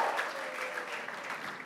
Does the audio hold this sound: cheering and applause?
yes